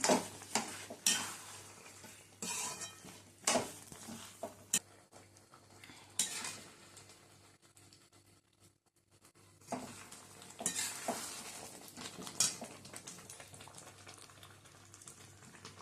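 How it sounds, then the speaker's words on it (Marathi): Wheat and jaggery syrup cooks on a full flame in a pot and is stirred, with repeated clinks and scrapes of a spoon over a soft bubbling simmer, close by, a quieter pause midway, and no talking. "अशा प्रकारे फुल गॅसवरच त्याला होऊ द्यायचं छान असं गहू गुळ मस्त गुडाचा पाक होता आहे"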